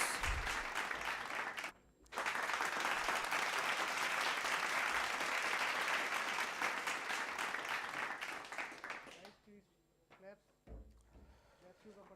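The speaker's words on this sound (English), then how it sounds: "Please have a big round of applause for all the students." An audience at an international conference on sustainable computational technologies applauds students, sustained dense clapping for several seconds that tapers off into quieter room sounds and faint voices.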